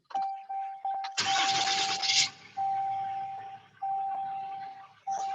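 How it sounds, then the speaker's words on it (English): A Geoprobe 3100GT truck engine cranks with a couple of short starter bursts, then catches and roars to life before settling into a steady idle, close and loud, with a tonal beep chiming repeatedly throughout. "start the truck."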